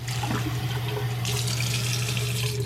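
Water pours steadily into a dog's bowl or cup, a continuous splashing stream heard close up, growing brighter partway through, with no talking.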